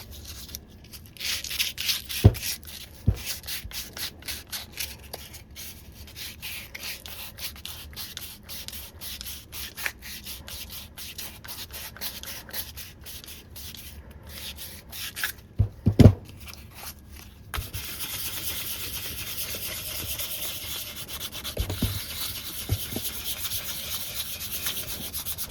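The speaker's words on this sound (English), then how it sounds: "So this is just 150 grit. I'm just going to come around here and lightly sand." A vintage monkey wrench being lightly sanded by hand with 150 grit sandpaper, intermittent close rubbing strokes with scattered knocks and handling sounds, then a steadier grainy sanding stretch near the end, no talk.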